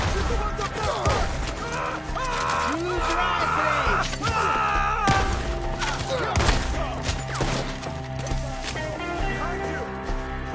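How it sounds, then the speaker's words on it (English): Bursts of gunfire in a video game as enemies up in the trees are shot, with rapid volleys and thuds mixed under loud shouting voices throughout. "Shoot the ones up there!"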